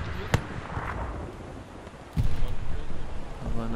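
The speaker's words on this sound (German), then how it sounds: "Ich höre hier immer noch mal so einen Schuss." Gunfire in the video game Hell Let Loose: a sharp crack goes off early, then a second, heavier shot follows a couple of seconds later amid a rumbling battlefield ambience.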